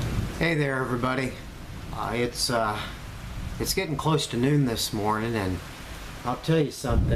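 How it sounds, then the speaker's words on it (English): Heavy rain pouring outside around midday, a steady hiss of falling water running continuously beneath someone talking in the foreground. "It's raining pretty hard down here."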